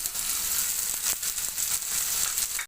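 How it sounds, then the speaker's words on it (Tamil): Eggplant and potato pieces frying in a pan give a steady broadband sizzle, close and continuous, with a few faint clicks of utensils against the pan. "உருளைக்கிழங்கு கத்திரிக்காய் சேர்த்தாச்சு நல்லா வதங்கட்டுங்க"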